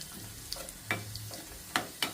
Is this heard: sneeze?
no